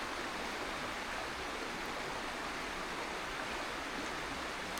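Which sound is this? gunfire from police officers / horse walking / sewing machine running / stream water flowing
stream water flowing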